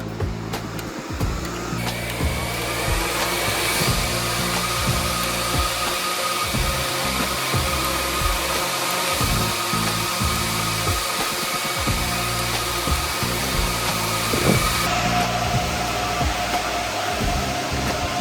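An Octominer X12 mining rig with every fan running at 100% makes a loud, steady roaring whoosh that fills the room close up, rising in strength early on and holding level throughout.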